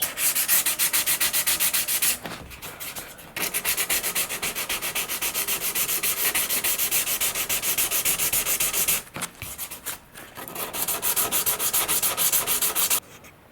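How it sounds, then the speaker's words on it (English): Steady, close-up rhythmic rasping of sandpaper scrubbing the hard composite wing tip of an RC sailplane, pausing briefly twice before resuming. "we'll just continue sanding on the edges and try to blend"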